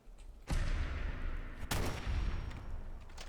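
Bursts of gunfire in Fallout 4 ring out in two sharp, loud volleys, each trailing into an echoing rumble, with no voices over them.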